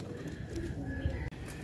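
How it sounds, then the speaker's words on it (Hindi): Soft, faint pigeon cooing outdoors in wintry Lahore, a few low murmuring coos under a quiet ambient background. "ये है जी कबूतर"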